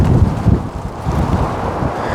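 Strong winter wind blowing outdoors at a campsite, buffeting the microphone with a loud, continuous roar and gusty low rumbles, no voices.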